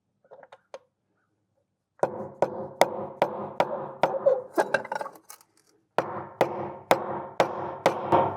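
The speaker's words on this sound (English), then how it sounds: "I'm not as good at hammering left-handed." Sharp metal hammer strikes on a sailboat's anchor windlass, a few light taps followed by steady rhythmic blows in two bursts, close and ringing, with a short pause between them.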